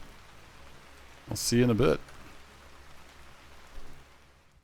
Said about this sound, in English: off we go into the rainy forest